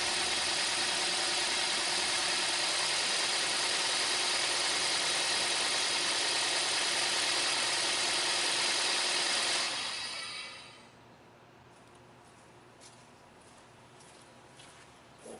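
A car engine runs with a strong, steady broadband roar and shaking, loud and continuous for about ten seconds before it cuts out abruptly, leaving faint background with a few light ticks.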